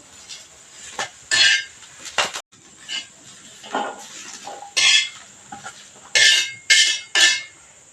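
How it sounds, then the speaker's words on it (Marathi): Roasted green chillies are taken off the heat onto a metal plate, making a series of close, sharp clinks and scrapes of utensil on metal with short quiet gaps between them. "ताटात काढून घेतो"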